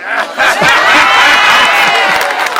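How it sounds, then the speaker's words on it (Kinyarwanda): A crowd at a Rwandan wedding in Musanze claps for the newly married couple, loud, dense and sustained applause mixed with cheers and chatter, close to the listener. "amashyi kuri couple cyashya"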